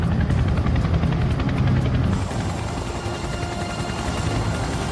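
Chinook helicopter flying, a loud steady rotor thrum with rapid blade chop filling the whole stretch, slightly easing after the first couple of seconds.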